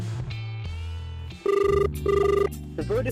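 An outgoing phone call rings back with a few loud, evenly spaced electronic tone bursts. Music plays underneath.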